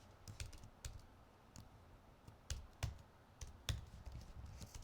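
Typing code on a computer keyboard, with irregular quiet keystrokes and occasional sharper clicks, close and alone against a low background hiss.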